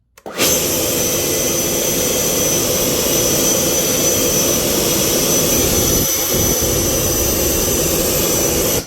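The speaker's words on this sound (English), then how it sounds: "it should go full blast reverse thrust" A jet engine at full reverse thrust in a flight simulator game roars in a loud, steady, unbroken blast that swells in quickly and holds for the whole stretch, with no talking.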